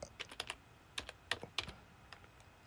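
Quiet, close typing on a computer keyboard: a quick irregular series of light key clicks, some in short bursts, with pauses between and no talk.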